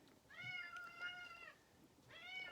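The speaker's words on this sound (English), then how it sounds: "Sounds like my cat is meowing." Two drawn-out cat meows, the first long and the second shorter after a pause, faint and slightly distant with no talking.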